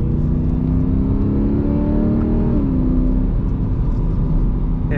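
A BMW M3 E90 V8 with active exhaust and X-pipe rumbles loudly and close, its deep exhaust note rising in pitch as it revs, then settling back to a steady drone.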